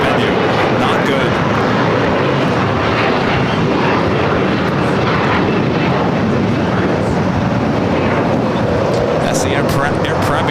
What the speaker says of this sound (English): That's the Air Premia Dreamliner heading down for a south-sided takeoff